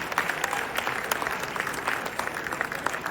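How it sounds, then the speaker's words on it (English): An audience at a Capitol Hill Diwali celebration claps for members of Congress, a dense, sustained round of applause from a crowd indoors. "can you give a big round of applause to all our members of Congress who are here?"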